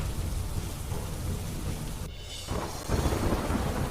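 Heavy monsoon rain pours over fields in Gujarat, a dense, loud, steady hiss with low thunder rumbling underneath and swelling toward the end, with no talking.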